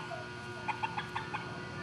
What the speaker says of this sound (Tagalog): may papakita ko sa inyo yung manok na maliliit